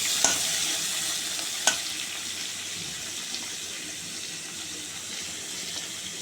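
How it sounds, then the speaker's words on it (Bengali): Prawns coated in salt and turmeric fry in hot oil in a pan, a steady close sizzle throughout with a couple of sharp utensil clinks near the start, and no talking. "তেল গরম হয়ে গেছে, চিংড়ি মাছগুলো ভেজে নেব"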